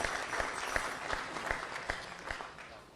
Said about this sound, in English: why don't we give him also a warm round of applause?